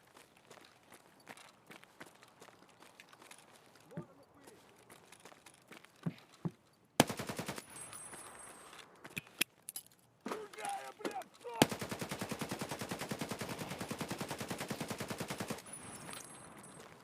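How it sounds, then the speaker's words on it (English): A player in Escape from Tarkov fires shots. They start as scattered faint cracks and footsteps, then turn into loud rapid bursts of automatic fire that run for several seconds, with sharp ringing tones. "Was that a player shooting at me then?"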